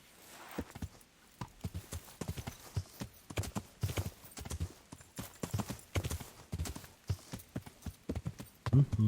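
Horse hooves clip-clop in a steady, brisk rhythm in the medieval game Kingdom Come: Deliverance, each step a sharp close knock, with a brief snort-like sound near the end.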